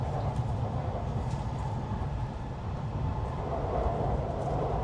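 A Nishi-Kyushu Shinkansen Kamome train runs near Hakata with a steady, continuous rumble and hiss that stays even throughout, with no talking.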